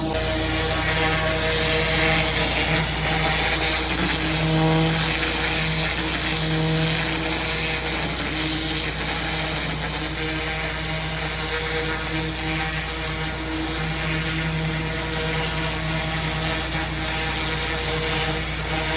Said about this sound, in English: that pressure washer's too hard for me to hold at the moment